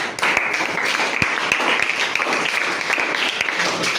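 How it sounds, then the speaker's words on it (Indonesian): A classroom of students gives a group a round of brisk, continuous clapping, close and fairly loud, with a faint murmur of voices beneath. "Tepuk tangan untuk kelompok 4."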